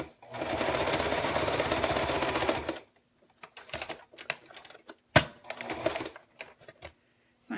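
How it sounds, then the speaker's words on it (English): A sewing machine stitches steadily along a straight line while paper piecing a snowman quilt block, a close, continuous run of needle chatter for a few seconds, then stops and leaves scattered clicks and handling taps. "So I'm just sewing over that straight line."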